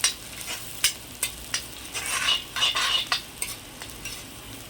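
Onions sautéing with a little salt in an iron kadai for chicken chukka: sharp metallic spatula taps and scrapes at an uneven rhythm over a constant sizzle, close up, with no talking.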